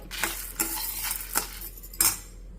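Toor dal and dried red chillies dry-roasting in a pan, stirred with a spatula: four distinct scraping strokes with light rattling of the lentils, close and clear, with no talking.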